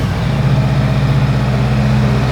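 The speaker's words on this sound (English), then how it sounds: "I'll just start the motorcycle" A 2025 Honda Rebel 500 twin-cylinder motorcycle idles close by with a deep, steady, throbbing low rumble, loud and even with no talk over it.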